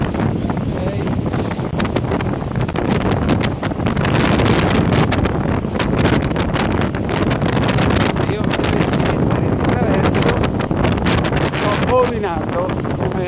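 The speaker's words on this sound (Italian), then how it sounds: "parliamo di vento" Gusty wind buffets the microphone in rough, uneven blasts on Tenerife, with rustling and faint background sounds throughout.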